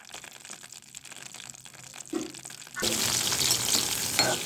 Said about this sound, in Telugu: ఆయిల్లో చక్కగా పచ్చిమిర్చి ఫ్రై చేసుకోవాలి.